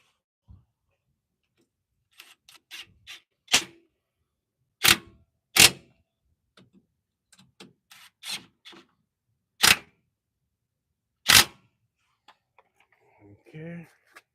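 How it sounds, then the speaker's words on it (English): DeWalt DCF923 cordless impact wrench working on the nuts under a 1998 Ford F150 during a wheel bearing and front brake job. It gives short, sharp separate bursts spaced a few seconds apart, close and loud against a quiet background. "Let's hit our nuts on the bottom with the good old DeWalt."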